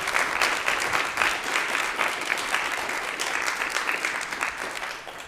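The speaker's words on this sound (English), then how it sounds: "give Jace Hinchin a round of applause" A church congregation applauding during a worship service, sustained dense clapping from many hands in a room, steady and fairly loud before tapering slightly at the end.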